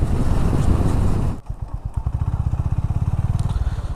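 A Honda H'Ness CB350 motorcycle engine, heard while riding, starts as a roaring rush of wind and exhaust, then drops to a close, distinct thumping beat of single-cylinder pulses as the throttle eases off.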